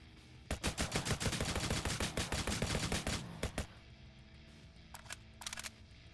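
Assault rifle fired in full-auto bursts in the zombie survival game Nearly Dead, sharp rapid shots for about three seconds, then two short bursts after a pause, no talk.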